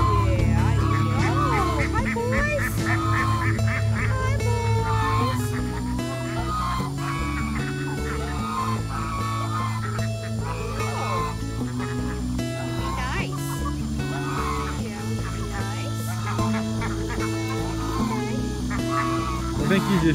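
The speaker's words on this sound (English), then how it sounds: "They sound like geese." Old guard geese honk repeatedly in a farmyard, nasal calls overlapping at close range while people talk over them, with a dog barking at times.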